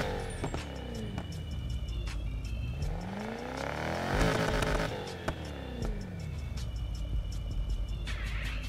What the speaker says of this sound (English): Listen to how the car sounds when it's idle.